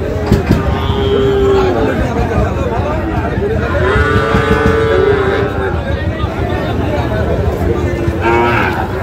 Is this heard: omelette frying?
no